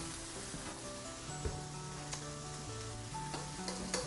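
Black olives sizzling in a greased pan while being stirred, a low continuous fry with light scraping taps under background music.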